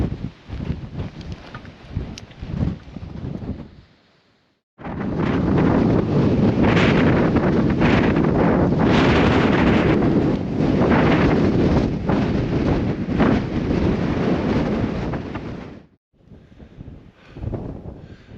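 Strong wind blows across a hillside and buffets the microphone in a loud, sustained roar for most of the stretch, with gustier, choppier rumbling before and after. No one speaks.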